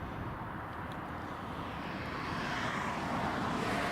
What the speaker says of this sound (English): here comes the Ryanair on final